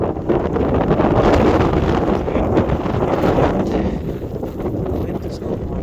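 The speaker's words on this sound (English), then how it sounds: "Wind is not my friend." Strong wind roars across a volcano slope near an ongoing eruption, buffeting the microphone in a loud, continuous rumble that barely eases over several seconds, with no talking.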